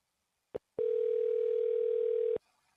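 Telephone line on a redialed cold call: a short blip, then a long steady electronic tone lasting about a second and a half before cutting off, loud and alone.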